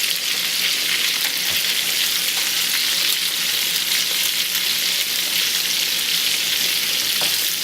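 Stuffed vegetables frying golden brown in a pan give off a continuous, even, fairly loud sizzle and crackle, with a couple of faint knocks as they are turned over, and no talking.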